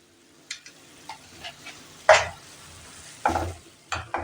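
A spatula stirs radish curry in a pan, making several separate, irregular scraping strokes up close over a faint sizzle, with quiet gaps between them.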